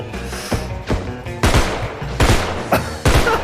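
Rapid gunshots crack out in a survival video game, several loud bursts spaced about half a second to a second apart, sharp and close with reverberant tails and no talking over them.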